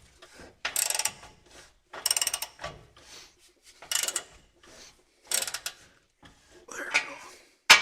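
A part on a 1989 Ford being tightened by hand with a ratchet, several short bursts of close, clicking ratchet strokes separated by pauses.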